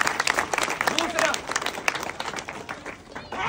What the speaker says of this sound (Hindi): तालियां बजा दो एक तो इस बात के लिए